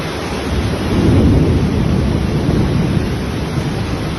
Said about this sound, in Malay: Hujan lebat di Lembah Kelang